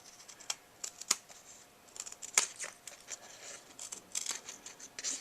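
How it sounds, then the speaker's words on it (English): Scissors snip through paper in a series of quick, crisp cuts with short pauses, close and fairly quiet. "Then I'm gonna take a pair of scissors and cut off"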